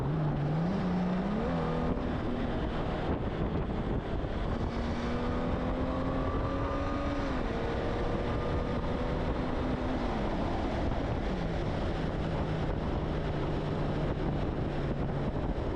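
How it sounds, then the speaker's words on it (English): A Honda Goldwing GL1800 motorcycle with a Stage 1+ ECU flash downshifts in manual mode and accelerates, its engine note stepping up and down through gears under steady wind rush. "let's downshift and see the acceleration."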